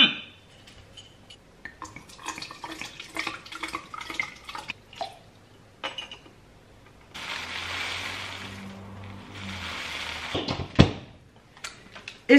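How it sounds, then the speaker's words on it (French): Water poured from a container into a vessel for making oat plant milk, a steady gushing pour of several seconds after scattered clinks and handling noises, followed by a second shorter pour and a knock. "Je verse 1 litre d'eau tout de suite."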